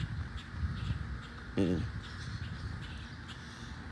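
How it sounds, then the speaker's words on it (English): Mother grackle calling from overhead, a single harsh, raspy call bursting out briefly amid outdoor background noise, with someone talking around it. "And the mama bird still fucking chirping up there."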